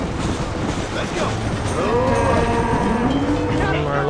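Cattle herd lowing in Red Dead Redemption, several drawn-out moos rising and falling over a rumbling train and general game noise, with a voice talking now and then.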